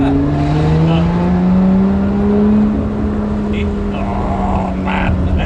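A one-of-one Lotus Exige 430 Cup 'Type 49' holds a loud, steady engine drone while driving, its pitch climbing gradually and then holding, with faint wind and road noise around it.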